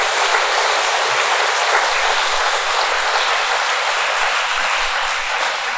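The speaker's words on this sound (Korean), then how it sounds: "우리 원장 선생님, 메다 선생님께 박수 한번 쳐드리겠습니다" A church congregation at a lecture gives steady, dense applause for the teachers. The clapping runs loud and even for several seconds without any voices.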